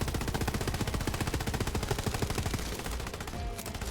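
Zane's gun in Borderlands 3 on PC rattles off fast, evenly spaced rapid fire for about three seconds, then the rhythm thins and slows near the end; loud, close and with no voices.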